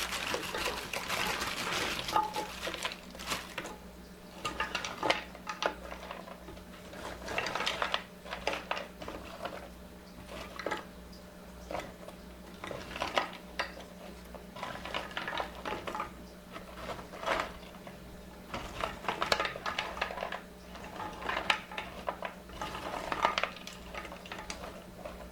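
Frozen broccoli and cauliflower are stirred in a pan on the stove, a soft repeating scrape and clatter with faint sizzling and a low steady hum, quiet and close throughout.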